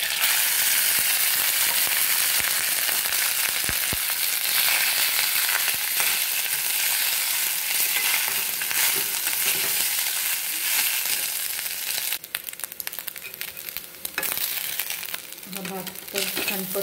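Jeera rice, cooked rice with cumin seeds in hot oil, being stir-fried in a wok, giving a steady close sizzle with crinkly scraping from the stirring. The scraping clatters more sharply toward the end.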